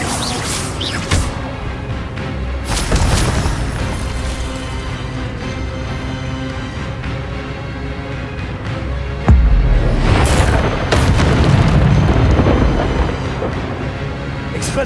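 An Incendio fire spell is cast in the video game Hogwarts Legacy, with loud dense whooshing and crackling blasts, swelling in two heavy bursts over continuous game noise.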